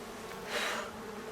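Honey bees buzz around an opened hive, a soft continuous drone that swells briefly as one passes nearer, then settles back.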